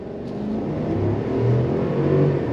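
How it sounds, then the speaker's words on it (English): A 2023 Chevrolet Silverado ZR2 Bison pickup accelerating under throttle on the road, a steady, close engine drone that swells slightly as it pulls, with no talk over it. "We're gonna go on throttle as soon as this vehicle passes."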